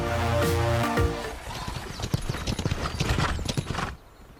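Horse hooves clip-clop in a steady walking rhythm, fairly close and distinct, following a brief stretch of sustained tonal sound at the start.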